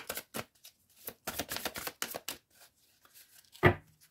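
Petit Lenormand oracle cards are shuffled and drawn in a quiet room, a run of quick papery flicks and riffles followed by a single sharper slap as a card is set down, close and soft.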